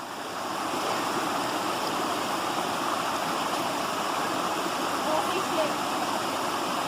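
A mountain stream on the Huntington Ravine Trail on Mt Washington, New Hampshire, rushes and splashes in a continuous, fairly loud wash of flowing water close by.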